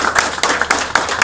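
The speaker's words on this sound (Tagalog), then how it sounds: "Okay, palakpak naman." An audience breaks into a short burst of clapping from many hands, a dense and fairly loud patter of claps lasting just over a second.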